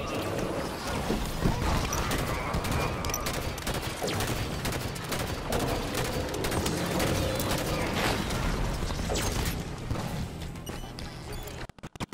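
Dense, continuous gunfire from the Halo video game, rapid overlapping shots and mechanical clatter filling the whole stretch without pause before cutting off abruptly at the end.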